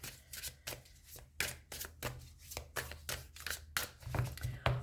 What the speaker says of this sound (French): je mélange mon jeu parce qu'il y a un peu beaucoup de cartes